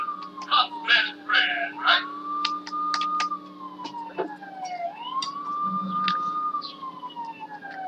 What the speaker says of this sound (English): let's hear your siren